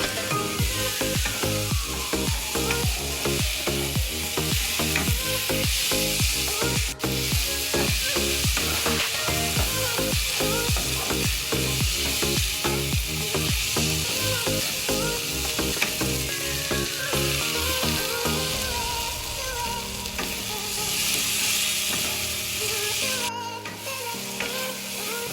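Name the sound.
stirring fried prawns into onion curry in a pan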